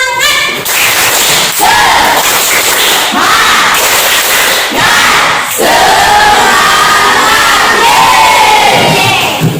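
A loud group chant with rhythmic clapping in a classroom lesson, many young students shouting the Indonesian clap chant "Tepuk semangat" together in bursts with sharp claps between.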